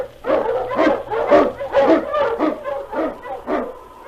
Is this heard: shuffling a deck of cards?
no